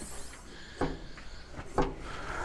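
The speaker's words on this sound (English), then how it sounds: "I will need to to open this door, make sure that's going to clear" A door on a home-made camper trailer swings open, giving two short, solid knocks about a second apart, close by, over a quiet background.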